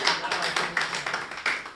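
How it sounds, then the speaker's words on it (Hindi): Applause from an audience at a Hindi poetry recital after a poem ends, a short burst of steady clapping with a voice speaking over it. "कविता समाप्त हो गई, तालियां बजा दीजिए।"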